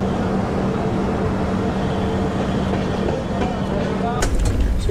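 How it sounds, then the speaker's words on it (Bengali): The 13167 Kolkata–Agra Express rolls along near Kannauj, a steady rumbling rail noise heard from inside a second AC coach, continuous and moderately loud, with a brief clatter near the end. "ট্রেনটা এখনো পর্যন্ত বেশ রাইট টাইমে চলছে।"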